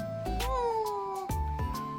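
A domestic cat meows in two or three drawn-out, pitched calls with a falling then rising contour, close and clear, no talking.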